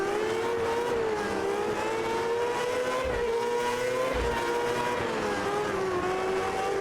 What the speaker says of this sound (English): They're fast little cars.